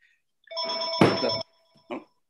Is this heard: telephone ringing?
yes